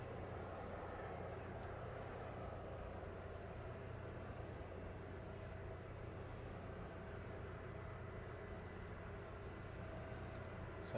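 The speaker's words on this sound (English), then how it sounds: "So much more aircraft coming in." Steady low jet rumble of aircraft arriving at East Midlands Airport at night, a distant continuous drone holding evenly throughout with no voices.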